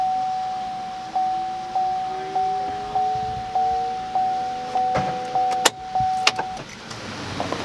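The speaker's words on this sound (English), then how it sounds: "Pump works." An electric fuel pump with an MSD booster primes after the key is turned on in a car, giving a steady electric hum broken by regular clicks about every half second, ending with a couple of sharper knocks.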